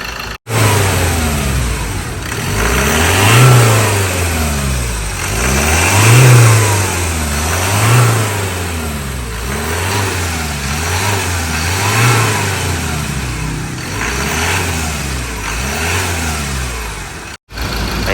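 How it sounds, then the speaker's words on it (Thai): A Ford Ranger pickup engine being run after a no-start fault, loud and close, its revs rising and falling in repeated slow surges over a steady idle, with brief cut-outs near the start and end. "เดี๋ยวเราสตาร์ทรันไว้สักพักหนึ่งนะครับ"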